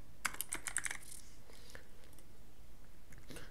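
Typing on a computer keyboard, a quick cluster of near, crisp key clicks at the start, then scattered lighter taps and a final short burst, quiet and alone.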